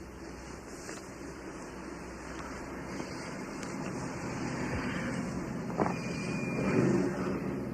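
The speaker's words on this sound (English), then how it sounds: "It's Jennifer's car." Jennifer's car pulls up outside, its engine swelling and revving louder toward the end over a steady broadband rumble, with no voices.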